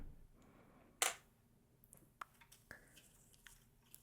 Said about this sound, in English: should we spray first? Let's spray.